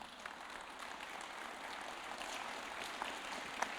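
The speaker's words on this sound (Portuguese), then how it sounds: "Dá uma salva de palmas para Jesus, então." A church congregation at a communion service claps steadily at a moderate level, a dense even patter of many hands with a few sharper claps standing out near the end.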